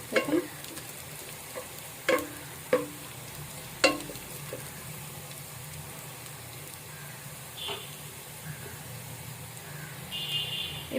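Onions browning in a pan for Bengali-style beef kosha, with a low steady sizzle and several sharp scraping knocks of a spoon stirring, fairly faint and without talk.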